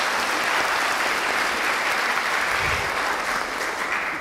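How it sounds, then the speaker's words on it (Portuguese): An audience at the opening of the second semester of the UniversIDADE program in Paulínia applauds steadily for about four seconds, a dense even wash of many hands with no voices on top. "Uma salva de palmas para eles também"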